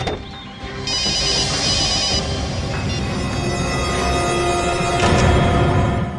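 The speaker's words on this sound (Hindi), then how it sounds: "सर, घंटी बज रही है।" A mobile phone rings steadily with a loud electronic ringtone at a crime scene beside a parked car, the tone sustained and close throughout with no speech over it.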